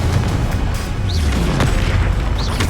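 A Bombarda blast spell from the Hogwarts Legacy video game on PS5, a loud heavy explosion with crashing debris and a couple of brief whooshing flares, dense throughout and without speech.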